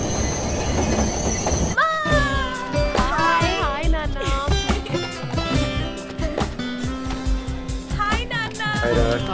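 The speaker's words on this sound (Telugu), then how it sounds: "ట్రైన్ వచ్చింది" Passenger train pulling into a station, wheels squealing in rising and falling screeches over heavy rolling clatter, loud and close, with people talking over it.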